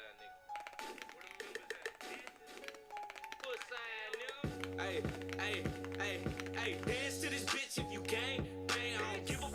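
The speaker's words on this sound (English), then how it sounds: "I'm just like typing and I have to finish the sentence." Quick bursts of clicking and clattering come from typing on a computer keyboard, close and busy. Voices and music with sustained tones mix in, with the music growing stronger partway through.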